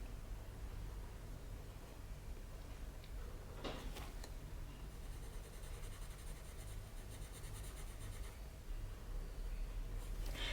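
Coloured pencil scratches steadily across paper while shading a drawing of fire, a continuous soft scratchy rasp with faint ticks, close and quiet with no talk.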